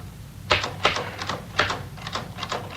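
Typewriter keys struck in short clusters of sharp clacks with brief pauses between bursts, fairly close, in an indoor radio-drama scene with no talking.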